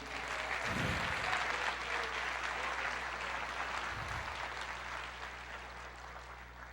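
A church congregation applauds during a sermon on the resurrection, a continuous wash of clapping from many hands in a reverberant room, fairly even and moderately loud, with a low steady hum underneath.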